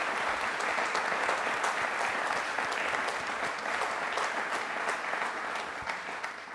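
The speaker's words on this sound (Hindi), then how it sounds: "हमारे सैन्य बलों के लिए तालियां दिल" Sustained, dense clapping from a quiz show audience honoring the armed forces at a Republic Day special, steady and full before fading a little at the close.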